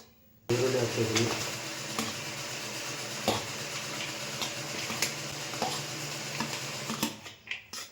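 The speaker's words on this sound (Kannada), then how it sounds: "ಇವಾಗ ಈರುಳ್ಳಿ ಹಾಕ್ತಿದ್ದೀನಿ" Onions go into a pan and begin to fry with a soft sizzle, punctuated by scraping and clinks of a spoon against the pan, all under ongoing talk.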